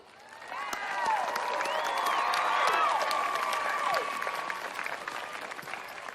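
An audience applauds and cheers for a Louisville performer, swelling into dense clapping with whoops and shouts, then tapering off slightly.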